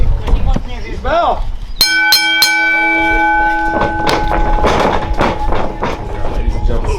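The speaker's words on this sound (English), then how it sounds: "Bell!" A wrestling ring bell at a Halloween wrestling event is struck three times in quick succession, loud and ringing on, with crowd noise and an announcer's voice around it.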